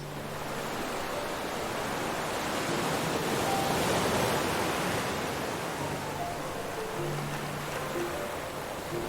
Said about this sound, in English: I like to hear the sound of the ocean.